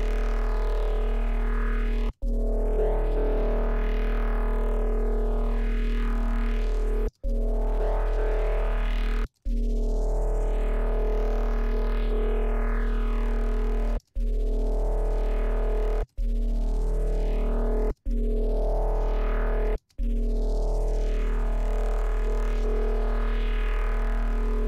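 Distorted, filtered resampled bass made in Ableton, a loud droning tone with sweeping filter arcs that rise and fall, cut by several abrupt silent gaps, with no voice present.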